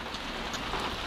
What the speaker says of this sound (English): Very, very much needed rain right now.